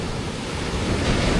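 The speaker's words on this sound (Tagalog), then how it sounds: "Lalakas ng alon, no?" Strong ocean waves surge and wash continuously on the shore near Tangadan Falls, a loud, broad roar with rising intensity and wind buffeting the microphone.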